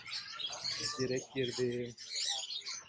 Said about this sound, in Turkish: Oho, içeride kuşlar var.